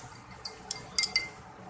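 A spoon clinks against a glass while lemon sherbet with ice and basil seeds is stirred, a few sharp light chinks spaced irregularly over a quiet background.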